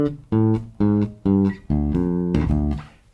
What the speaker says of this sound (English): that's the D blues scale